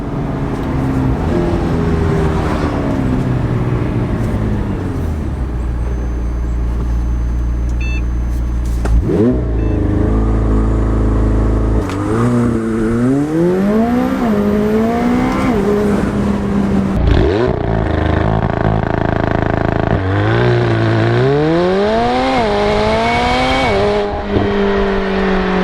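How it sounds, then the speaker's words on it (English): A McLaren 720S launching under launch control at full boost roars loudly and close, with the engine note climbing in a series of hard rising sweeps through each gear change and a brief tire chirp. "I'm gonna go ahead and do it with full boost."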